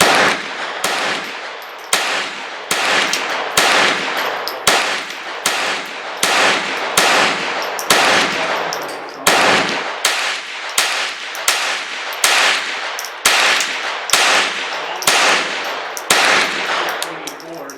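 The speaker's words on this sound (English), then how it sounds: "20-round rapid fire with CCI mini mags through GSG-16 9-inch barrel." A GSG-16 .22 rifle with a 9-inch barrel fires a 20-round rapid string of CCI Mini-Mag ammunition outdoors, the sharp cracks coming loud and close in a steady, evenly spaced rhythm with no talking.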